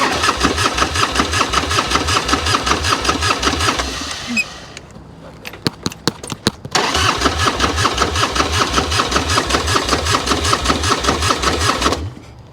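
An old Plymouth Roadrunner's engine cranking over steadily with a rapid rhythmic churn as it tries to fire, pausing briefly with a few clicks, then cranking again for several more seconds without catching.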